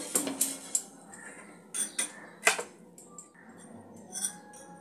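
Metal spatula scraping and clinking against a hot tawa while a thin rice-flour chakli pancake is lifted off, a few sharp near scrapes and taps spread across a quiet kitchen.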